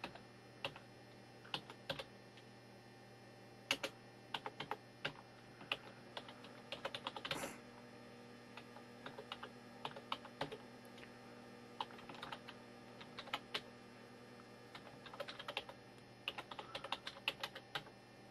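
Someone types a command on a computer keyboard, with scattered quick keystrokes and occasional short clusters of taps, fairly quiet and close, with no talking.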